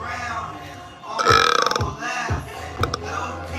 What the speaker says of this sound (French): C'est roté sur commande.